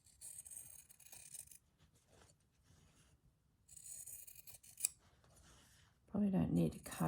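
Fabric scissors slicing through fabric, heard as soft crisp snipping and scraping in two bursts, with quiet pauses and a louder rustle at the end.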